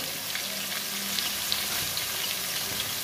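Pumpkin pieces and vegetable stalks frying in oil in a pan, a dense even sizzle with faint sputters and light crackles throughout, close and unbroken, with no voices.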